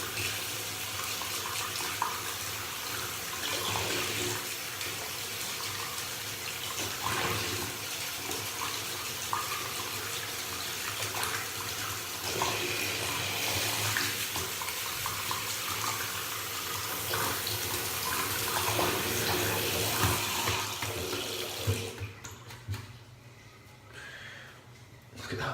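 Tap water runs steadily into a sink while soap is rinsed out of a shaving brush, a close continuous splashing stream with small shifts in flow, cutting off near the end and leaving quieter room sound.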